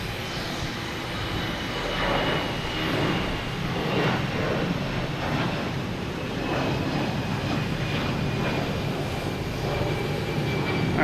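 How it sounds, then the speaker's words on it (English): A KLM Airbus A330-300 arriving at Boston Logan from Amsterdam gives a sustained, moderately loud jet engine rumble and whine that swells slightly and holds steady, heard from a distance without voices. "KLM, there we go. Amsterdam and A330, 300."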